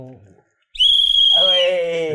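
A short voice murmur, a brief pause, then a sharp shrill blast from a used referee whistle just wiped dry, holding and sliding lower before fading slightly.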